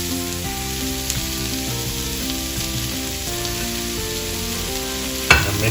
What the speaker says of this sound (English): So after 2 to 3 minutes of frying this veggies, I will add chopped tomatoes.